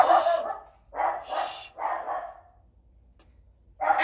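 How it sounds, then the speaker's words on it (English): A house dog barks in three quick, loud, close bursts, each a rough double bark, with a short pause before a fourth bark starts at the end. "I got a dog recently. So thank you for letting me know. No more barking."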